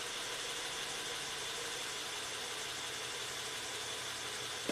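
A Honda Accord with a VCM misfire fault idles steadily after the throttle is released, producing an even, continuous mid-pitched engine hum close by, with a slight knock and a brief click at the end.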